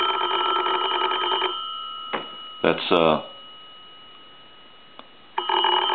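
A German post office telephone's bell rings in short bursts at the start and again at the end, with a quieter stretch between and a brief word spoken in the middle.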